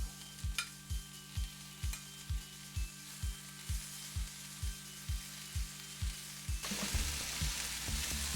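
Spiced beef and vegetables stir-fry in a hot pan, with a spatula scraping in a steady rhythm of about two strokes per second over a constant sizzle that swells louder and hisses near the end.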